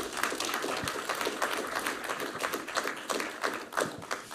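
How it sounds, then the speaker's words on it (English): Audience applause at a startup competition event, a moderate crowd clapping steadily and fairly close for several seconds. "let's give him a little bit of energy with a bit of applause"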